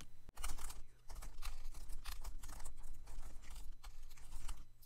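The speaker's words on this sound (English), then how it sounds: "So here I go typing." Fingers typing text on a computer keyboard, a quick, uneven run of close, crisp key clicks with brief pauses.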